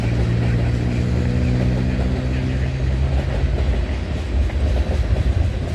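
A CN freight train departs McMillan Yard on the Halton line, producing a loud, continuous low rumble with droning engine tones and rolling wheel noise that stays close throughout, with no talking.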